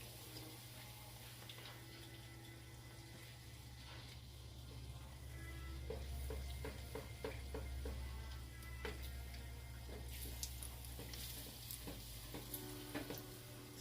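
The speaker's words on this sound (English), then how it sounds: "usually I throw a little bit of oil on it just to give it a light sear" Chiles searing in a light coat of oil in a hot pan give off a continuous, crackling sizzle that swells slightly partway through and carries on with no talking.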